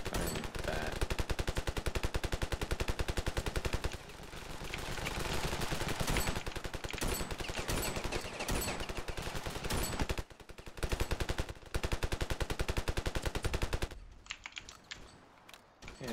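Assault rifle fire in the video game Ravenfield, with long rapid bursts of shots broken by short pauses, loud and close throughout.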